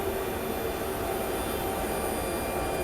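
Twin MAN V12 diesel engines of 1,864 horsepower each run in the engine room of a Majesty 111 superyacht, filling the space with a constant loud roar and a high tonal whine, unchanging and with no voices.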